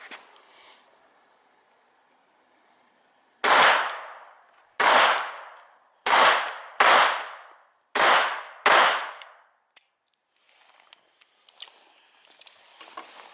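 Six sharp, loud cracks from a small Baby Browning .25 ACP pistol, fired one after another at irregular intervals, each shot ringing briefly before quiet returns, with faint shuffling and clicks afterward.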